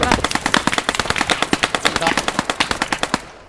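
Rapid bursts of gunfire in the game Post Scriptum, loud and close, with dense automatic shots in a fast rhythm that cut off abruptly near the end.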